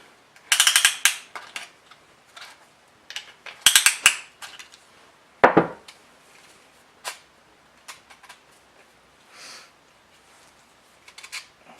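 A hand tool tightened down on a Hemi engine during a rebuild, giving bursts of close metallic ratcheting clicks with pauses between and a few sharper knocks, with no talk.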